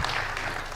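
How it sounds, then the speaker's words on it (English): Conference audience applauding a speaker coming up to the stage, a dense steady wash of many hands clapping together at moderate loudness with no voices over it. "Come on, keep clapping till she gets here."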